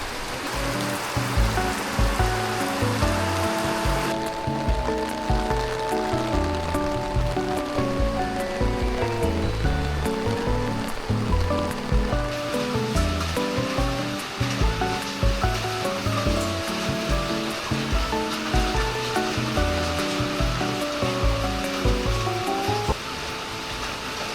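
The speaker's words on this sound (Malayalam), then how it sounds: "അത്ര മഴയാണ്" Heavy rain pours steadily and loudly beside a temple, a dense continuous hiss of drops drumming on surfaces, with no voices.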